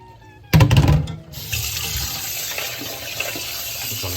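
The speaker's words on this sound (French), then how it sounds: "Je vais vite vider l'eau chaude dans l'évier" Hot water from boiling eggs poured into a kitchen sink, a sudden loud splash that settles into a steady rushing drain of water nearby.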